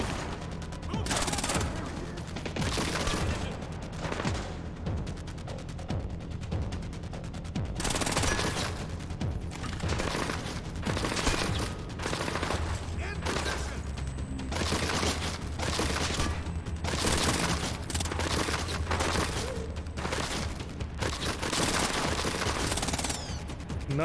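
Sustained bursts of automatic gunfire in Splinter Cell: Blacklist, rapid crackling volleys with short pauses between, loud and dense throughout, alongside a low mechanical hum and no speech.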